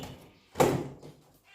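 The small door of a pet canary's cage closes with a single close, muffled knock, followed by a faint rattle and quiet.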